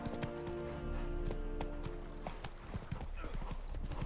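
Roach, the horse in The Witcher 3: Wild Hunt on PS5, gallops in a rapid, steady clip-clop of hooves, moderately loud, under a low ambient game score with no voices.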